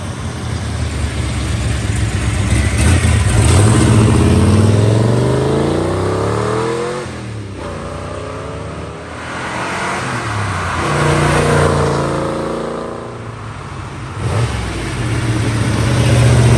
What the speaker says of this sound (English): Obligatory farm road going through the gears.